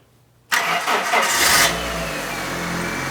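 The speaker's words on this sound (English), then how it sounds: "All right, we're going to start the car." A car engine being started while testing an EGR solenoid circuit: a sudden cranking catch at half a second, a brief rev, then a steady idle that settles and runs close and loud to the end.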